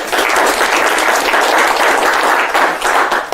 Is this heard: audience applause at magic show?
yes